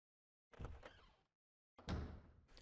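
Door opening in the video game RuneScape 3: two separate wooden creak-and-thud sounds, each lasting about a second, close and clean with silence between them and no talking.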